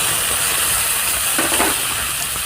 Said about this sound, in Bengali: ধনে বাটা আর জিরে বাটাটা ভেজে নেব ভালো করে।